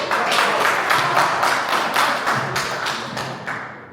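An audience at a 2024 international congress expo applauds. The clapping is loud, close and steady, with a quick even beat through the whole stretch and no voices over it.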